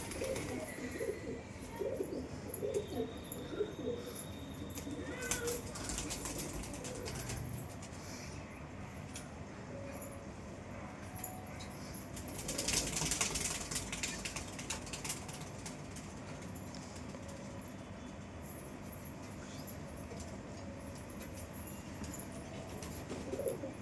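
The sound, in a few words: pigeons cooing and flying at a pigeon house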